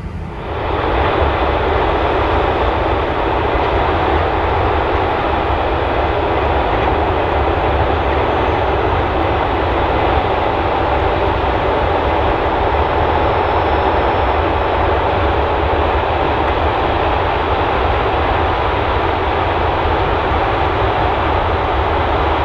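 Case IH 9250 combines harvesting a 3,000-acre corn field send up a loud, steady engine roar that holds without pause for the whole stretch, with no talk over it.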